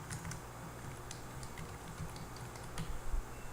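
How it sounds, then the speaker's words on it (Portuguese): Quiet typing on a computer keyboard, with irregular clicking keystrokes and a few louder taps near the end, and no voices. "Vamos digitar aqui"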